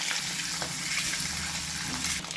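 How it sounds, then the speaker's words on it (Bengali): Eggs seasoned with salt, Kashmiri chili powder and turmeric, shallow-frying in oil: a soft, continuous bubbling sizzle at a moderate distance, without speech. "ডিমগুলো ভাজা হয়ে গেছে, এবার তুলে নিচ্ছি।"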